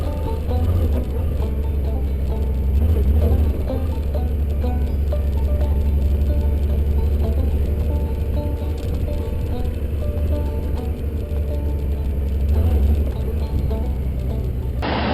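A Honda Goldwing motorcycle is ridden at a steady, loud engine drone with a deep low rumble, swelling slightly as it shifts gears and accelerates, with a brief surge near the end.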